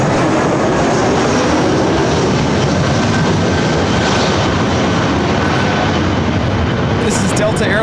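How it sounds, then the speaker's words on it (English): Delta Airlines Airbus A321 jet inbound from Salt Lake City to LAX, a loud, steady broadband engine roar that holds without letup, with faint talk in the background. "This is Delta Airlines 1161 coming in from Salt Lake City on the A321"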